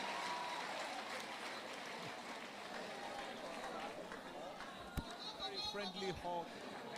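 An audience at a Niger Delta women's meeting claps in a soft, distant patter for several seconds, fading as voices and scattered noises take over near the end.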